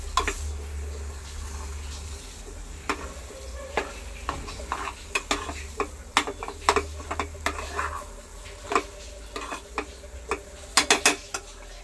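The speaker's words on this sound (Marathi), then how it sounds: "ती टाकून घेते आणि पुन्हा एकदा व्यवस्थित ह्याला हलवून घेते" Mango sheera is stirred in a pan with a spatula. A soft, steady sizzle runs under irregular scrapes and sharp clicks against the pan, which become quicker near the end.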